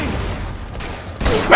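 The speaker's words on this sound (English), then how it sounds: "Rocket launcher out!" Rocket launcher fire in Uncharted 2, a loud burst of blasts and rumbling explosion noise with a sharp impact near the end, heard up close.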